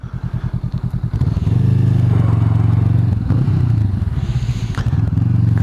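Honda Rebel cruiser motorcycle engine heard close up: a steady lumpy idle thump that rises into a louder sustained rumble as the throttle opens, then dips and climbs again, with no talking.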